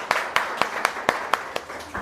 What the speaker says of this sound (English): Please, everybody, a big round of applause for them.